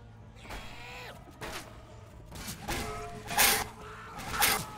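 Door creaking open in the Left 4 Dead video game, a series of drawn-out creaks and mechanical groans in short bursts over about five seconds, fairly quiet, with no talk.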